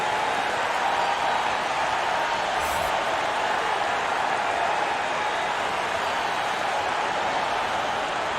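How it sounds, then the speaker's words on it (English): A basketball arena crowd in College Hoops 2K21 roars in a steady, loud, sustained wash of cheering that runs unbroken for over eight seconds, with no distinct voices standing out. "you gotta love hearing a crowd get this fired up"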